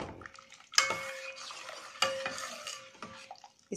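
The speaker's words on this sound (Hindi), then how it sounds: "और इसको लगातार चलाते हुए कुक करेंगे" A spoon scrapes and clinks against a heavy-bottomed pot as almond firni is stirred continuously over a medium flame, repeated close metallic scrapes and knocks with a faint sizzle underneath.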